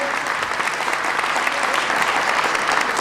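An audience applauds a band at a concert, a steady, dense clapping that stays loud and even throughout with no talk over it.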